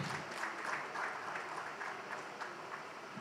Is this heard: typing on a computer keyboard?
no